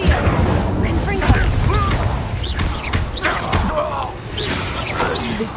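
Confringo explosive spell blasts from Hogwarts Legacy burst and thud amid chaotic game combat, with several heavy impacts, crashes and swooshing magic effects, and voices calling out over the noise.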